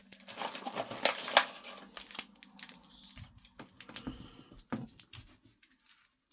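Cellophane wrapping handled on a Fanhome Mighty Morphin Power Rangers Megazord build part, close crinkling and rustling in irregular bursts, busiest early and thinning toward the end, with a few small clicks and no talking.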